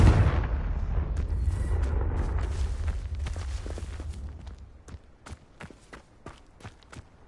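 A fire spell blast from a Hogwarts Legacy game erupts in a loud, booming explosion that rumbles and decays over several seconds, followed by a quieter string of sharp, crackling impacts and footstep-like clicks.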